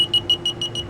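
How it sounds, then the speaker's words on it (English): An M Machine stitching machine controller gives rapid, regular high-pitched warning beeps, about seven short pulses in a second, before the frame moves forward 20 stitches. "The beeping is just warning you that the frame is going to move."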